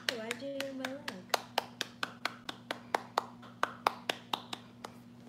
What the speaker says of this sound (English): Everybody give Taylor a round of applause